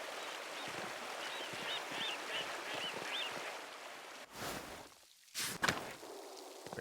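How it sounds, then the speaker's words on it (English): A waterfall in the video game Pentiment flows down from mountain snowmelt near an abbey, giving a steady, moderate rush of water under light birdlike chirps, broken near the end by two brief louder bursts. "The waterfall must flow down from the snowmelt in the mountains above the abbey."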